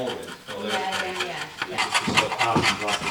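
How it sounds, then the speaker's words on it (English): Rough, rhythmic scraping strokes as paint stripper is scraped off a surface in an old chapel, close up, with a steady rasping texture and a faint voice underneath. "so just going to be scraping some of that off today."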